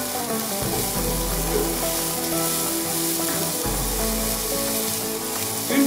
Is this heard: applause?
no